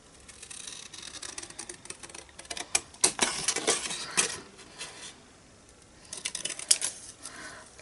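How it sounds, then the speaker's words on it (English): Scissors cut freehand through a paper card in quick runs of crisp snips, close and clear. A short pause falls between two bursts of cutting. "I'm just going to cut it out freehand."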